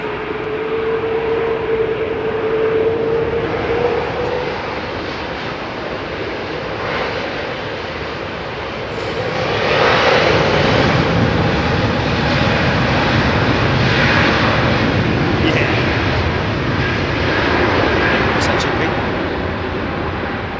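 Large jet airliner with GP7200 engines at Heathrow, a loud sustained engine roar that swells partway through and holds steady, with a whining tone early on and people talking over it.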